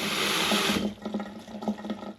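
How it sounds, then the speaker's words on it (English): Hot water gushes from a shower head onto rice to rinse out the starch, a loud rushing spray that cuts off within a second, leaving softer dripping and trickling. "get it on the shower head as hot as possible, and wash all that starch out"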